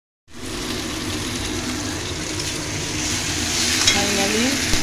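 A spice masala with dried red chillies fries in a pan after its oil has separated, giving a close, steady, loud sizzle that swells slightly as it is stirred, with faint scraping near the end.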